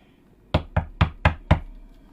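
Knocking on a door is demonstrated by hand: five sharp, close raps in an even, quick rhythm about a quarter second apart, each with a short hollow thud, heard alone against a quiet room.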